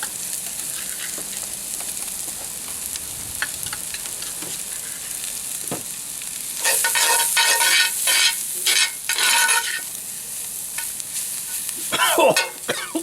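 Spices sizzling and stirred in a cast iron pan with potatoes and beans, a steady frying hiss that turns louder and crackly midway, with scraping stirs toward the end.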